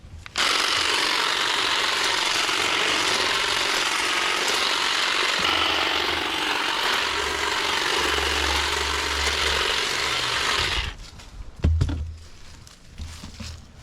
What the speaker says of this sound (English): So I'm going to try the little hedge trimmer on this tree and see how it works.